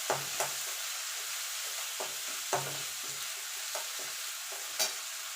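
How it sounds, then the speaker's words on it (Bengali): Vegetables with ginger and turmeric stirred and frying in a pan, a steady soft sizzle under repeated light scrapes and clinks of a spoon against the pan, no talking. "এবার কাঁচা গন্ধ যাওয়া পর্যন্ত একটুখানি নাড়াচাড়া করে নেব"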